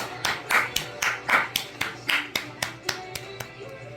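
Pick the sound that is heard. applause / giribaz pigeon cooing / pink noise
applause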